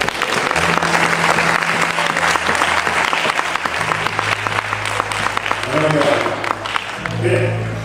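A festival dinner crowd applauding in a dense, sustained burst of clapping that continues for the whole stretch, with voices and a low hum underneath.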